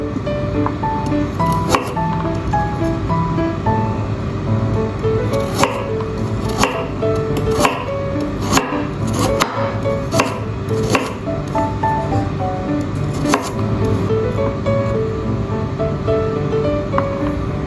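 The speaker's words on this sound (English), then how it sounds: "Optional to chop coriander. I use celery leaves for this recipe." Knife chopping celery leaves on a cutting board, a steady series of sharp, close taps at an uneven rhythm over a constant background rustle, with no talking.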